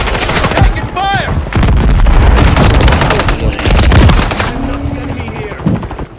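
Loud close-range gunfire in Call of Duty MW3, rapid bursts of shots cracking over one another through the whole stretch, with a game voice briefly heard among them.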